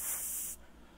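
An airbrush sprays paint onto custom Converse shoes in a short, close hiss lasting about half a second before cutting off to quiet room tone.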